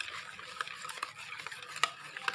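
Cake batter with room-temperature milk being beaten in a bowl, a busy, continuous wet swishing with small clicks of the utensil against the sides, close and fairly soft.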